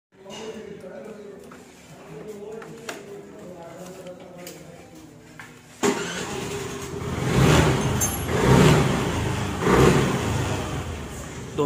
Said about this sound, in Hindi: हम आपको गाड़ी स्टार्ट करके दिखाते हैं